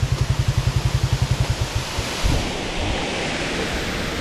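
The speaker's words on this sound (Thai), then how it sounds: "ตรงนี้ครับน้ำตก" A waterfall roars as a broad, steady rush of water, close and constant after a short burst of rhythmic thumping at the start.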